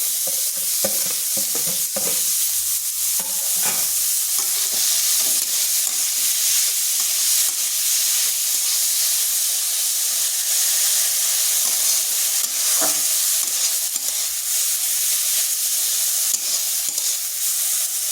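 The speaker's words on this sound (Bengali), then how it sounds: "এরপর গ্রেড করা ফুলকপিটা দিয়ে দিচ্ছি।" Steady, loud sizzling and frying of grated cauliflower in a pan for the whole stretch, with occasional scraping stirs and clinks near the start and midway.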